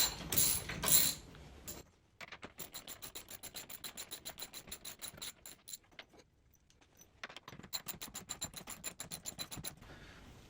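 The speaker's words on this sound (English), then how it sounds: "now I'm just taking out the leg bolts here" Bolts ratcheted out of the legs of a Jurassic Park Premium pinball machine, with brisk runs of fast, close metallic clicking broken by short pauses and a few clanks.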